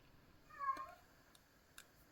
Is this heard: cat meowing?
yes